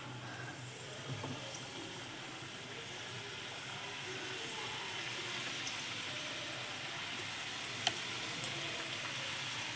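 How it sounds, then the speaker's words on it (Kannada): Pieces of khari salt biscuit dough fry in hot oil with a steady, even sizzle and crackle, close and continuous, with faint small pops and clinks now and then and no voices. "ಇದನ್ನ ಎಣ್ಣೆಲೆ ಫ್ರೈ ಮಾಡಿಕೊಂಡು ತೆಕ್ಕೋಬೇಕು."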